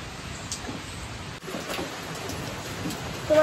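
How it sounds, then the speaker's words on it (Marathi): Rain falling steadily during a roadside stop on a road trip, an even hiss of drops on surfaces with faint pattering, continuous and moderately close, no talking. "जरा पाऊस पडतोय, थोडी थोडी थंडी पण वाजते"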